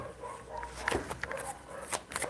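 Dogs barking and yipping somewhere off at a distance, a few sharper barks poking out of a quiet, hissy background with no clear rhythm.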